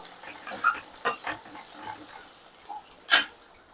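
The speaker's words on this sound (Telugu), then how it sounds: "ఇప్పుడు ఒకసారి అయితే తిప్పేసుకుందాము." A spoon stirs cooked onions in a pan for a mushroom and cashew curry, giving a few scattered scrapes and metallic clinks against the pan, close and fairly quiet.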